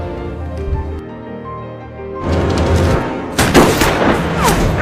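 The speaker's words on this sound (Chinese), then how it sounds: "一番疯狂的对射之后，双方也都开始换弹。" Gunfire rings out in a Korean hunting film shootout at a river, loud and echoing, with bursts of shots that build into a dense barrage over a tense musical score.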